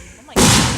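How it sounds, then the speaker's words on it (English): A firework bursts with a sudden loud boom that breaks over quieter background sound and trails off into a broad rumbling decay, close and powerful. "Hey, at least we have fireworks."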